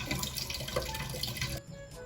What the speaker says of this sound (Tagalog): ako po ay naglagay ng tubig sa kaserola